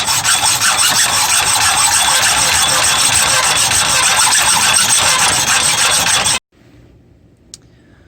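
A hacksaw cutting off a stubborn bolt, giving a loud, close, continuous rasping of fast strokes that stops abruptly, leaving near silence.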